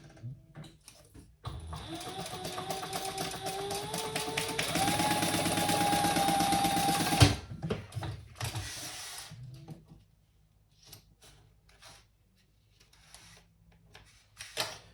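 A sewing machine stitches down the side seams of a crossbody bag, a loud rapid mechanical whirring run of several seconds that stops abruptly, followed by quieter handling noises and brief pauses.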